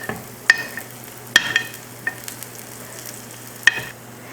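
Batter made from idli batter and banana fries in the wells of a paniyaram pan, giving a soft, low sizzle broken by a few sharp metallic clicks.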